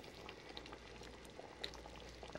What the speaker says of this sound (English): I have here some water boiling for the pasta eventually